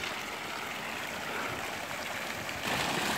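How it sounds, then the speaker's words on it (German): Water pours steadily from an upper pool into a lower basin, a continuous broadband rush heard close up, growing slightly louder near the end, with no voices. "hier kommt vom oberen Becken dann Wasser raus. Fließt da rein."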